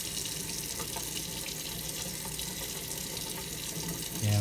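Water runs steadily through a kava strainer into a bag as a continuous close trickling wash, with no talking.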